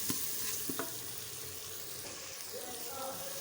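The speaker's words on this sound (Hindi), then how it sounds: "ये देखिए मसाला भुना गया।" Masala roasting and being stirred in a pan for a red and yellow moong-masoor dal, a steady close sizzle with a few sharp scraping clicks of the spoon early on.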